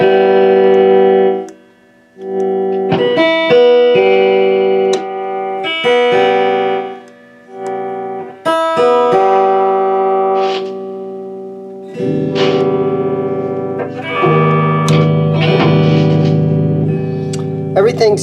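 An Epiphone SG electric guitar is strummed and picked through an amplifier in a series of chords and short bursts with brief pauses, loud and close, with slight crackle from the controls.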